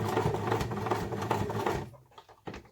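A sewing machine stitches a fabric beauty pouch, a fast steady run of whirring needle strokes, close up, that slows and stops near the end as the presser foot meets thick bulk.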